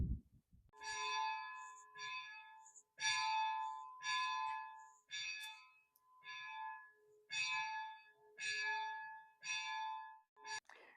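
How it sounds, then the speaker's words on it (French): A Bollée foundry bell cast in 1842 is rung about nine times in a steady rhythm, roughly one clear metallic strike per second, each ringing briefly before the next; the sound is moderately distant and faint, with no talking. "La cloche que je viens de faire sonner est une cloche Bollée, des fonderies Bollée."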